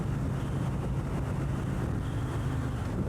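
Wind rushes at a rider on a $28,000 motorcycle, a loud, continuous buffeting roar close to the microphone that stays steady throughout, with no voices.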